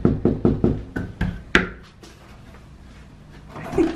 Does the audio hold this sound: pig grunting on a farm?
no